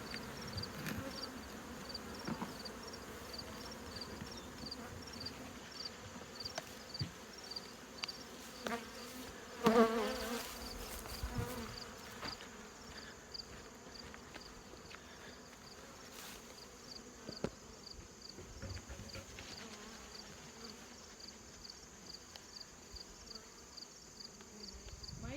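Honeybees humming in and around the boxes of a backyard hive in September, a soft steady buzz of many insects close by, with faint scattered knocks and a brief louder burst near the middle.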